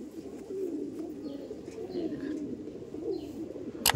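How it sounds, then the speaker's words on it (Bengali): Domestic pigeons, including a hen, kept in a pigeon fancier's loft, coo in a steady, low, murmuring drone that runs throughout, with a few faint higher chirps nearby and no talking. "এই দেখুন পায়রাটা, পুরোপুরি পায়রাটা দেখুন"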